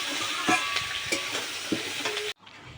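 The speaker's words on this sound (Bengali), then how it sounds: "আলু আর বেগুনটা ভেজে নিচ্ছি।" Potatoes and eggplant fry in oil in a pan, giving a steady close sizzle with a few soft stirring knocks before the sound suddenly drops away near the end.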